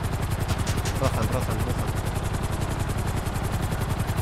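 Helicopter rotor in GTA Online chops steadily in rapid, even pulses throughout, close and constant, with a voice speaking briefly over it.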